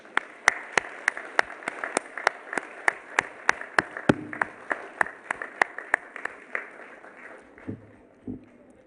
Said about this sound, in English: may I invite everyone to give a big round of applause to our beloved veterans.